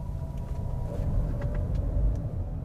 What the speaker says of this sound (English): you can hear it, but you can't really feel it when the gasoline engine kicks in